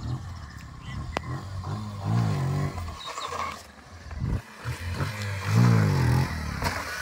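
A motorcycle revs in bursts during a bike stunt, roaring up and falling back twice at moderate distance, with background noise and faint voices around it.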